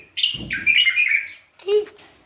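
A bulbul gives a few bright, close chirps and trills in quick succession, separated by short silent gaps.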